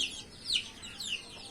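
Chickens in a backyard flock where older hens are pecking and injuring chicks, giving a few short high clucks and squawks at about 0.1, 0.5 and 1.1 seconds, fairly faint over a quiet background with no talking.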